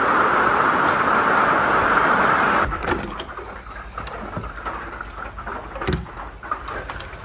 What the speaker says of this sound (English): I think I'll just hang out and watch it rain for a little while